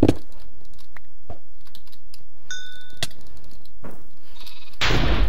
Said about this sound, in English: Oh no, a sheep, what'll we ever do?